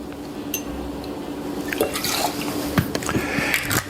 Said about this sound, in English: So 2 ounces of vodka.